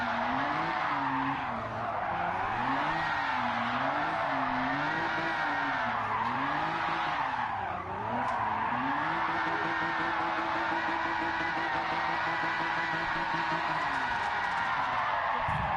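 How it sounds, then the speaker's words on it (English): A car drifting in Gran Turismo 7, its engine revving in a rising and falling pattern under a steady, loud tire squeal that runs almost without a break and settles into a held engine tone near the end. "I am not racing, alright? I'm drifting."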